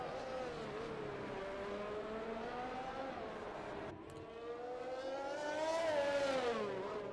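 Formula 1 cars scream through the final sector of the Singapore street circuit in the F1 2020 video game, a high whining engine note rising and falling as cars pass, with a brief dip and a louder surge near the end.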